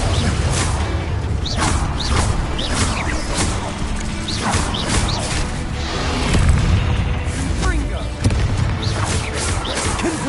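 Repeated spell blasts from Confringo in the video game Hogwarts Legacy, loud booms and crashes with whooshes over a dense game soundscape, with a voice calling out spell names throughout.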